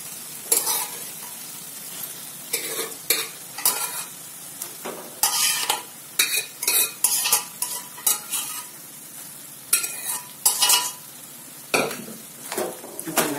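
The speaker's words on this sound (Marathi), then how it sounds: "आता याच्यात आपण आपले शिजलेली भाजी टाकून घेऊ." A spoon stirs cooked vegetables into softened tomato masala for pav bhaji, making a series of close, spaced scraping and mushy stirring strokes against the pan over a light sizzle, with no talking.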